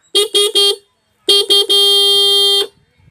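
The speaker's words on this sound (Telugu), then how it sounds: "అలాగే కింద హార్న్ అయితే ఉంది" Horn of a Suzuki Access 125 scooter, loud and close: three short beeps, a pause, two more short beeps, then one sustained blast of about a second, with no talk.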